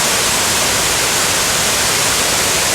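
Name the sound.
waterfall with white water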